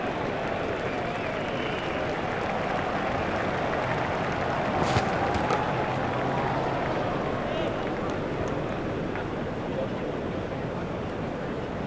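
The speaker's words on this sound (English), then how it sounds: "Crowd were brought to their feet by that shot." Stadium crowd in the Cricket 2007 video game cheering a big batting shot, a dense, steady roar of noise lasting throughout with a brief louder swell in the middle, heard alone.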